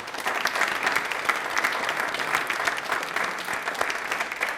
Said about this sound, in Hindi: तालियां एक बार प्लीज जोरदार हो जाए इनके लिए।